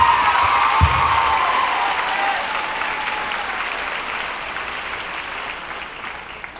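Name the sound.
audience applause at homecoming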